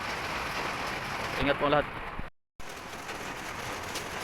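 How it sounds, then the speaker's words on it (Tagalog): Steady rain falls during a typhoon in Pasig City under a darkening sky, a continuous broadband hiss with a brief voice over it and a momentary dropout midway. "Ulan lang siya."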